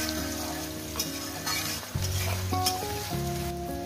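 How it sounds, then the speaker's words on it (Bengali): Onions fried with salt in a pan for a chicken and potato curry, a steady close sizzle with stirring scrapes throughout, no talking. "পেঁয়াজটাকে আমি ভেজে নিয়েছি"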